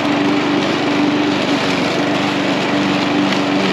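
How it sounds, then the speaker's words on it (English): A lawn mower runs steadily and loudly nearby, its engine holding a constant droning hum with no breaks and no voices for the whole stretch. "So mower it is."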